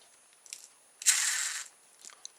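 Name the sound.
pull-back toy motor of a plastic plane kit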